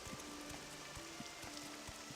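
Rain falls in the video game Morrowind as a soft, steady patter with faint intermittent low thumps, heard on its own without speech.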